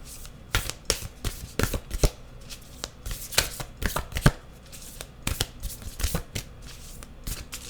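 A Rose Oracle card deck shuffled by hand, with sharp, close riffles and slapping clacks coming in irregular bursts and brief pauses between them, and no voice in the background.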